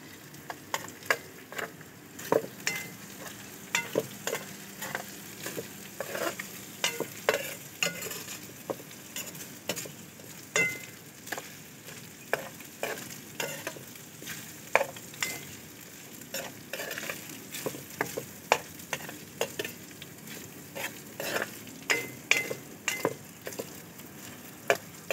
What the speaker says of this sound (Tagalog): Ito, nagigisa ko ng giniling.